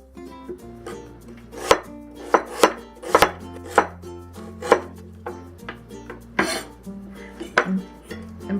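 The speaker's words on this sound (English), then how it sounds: "I'm going to cut it in half and cut it horizontal" Knife chopping through a red onion on a cutting board, a series of irregular sharp thuds and clicks spaced a second or so apart, close and clear, with faint kitchen background hum.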